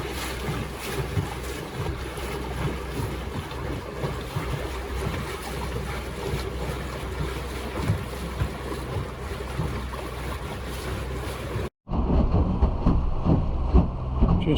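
A houseboat cruises through choppy river water, with a constant loud roar of engine, wind buffeting the microphone and water slapping the hull. It is briefly cut off near the end and then resumes.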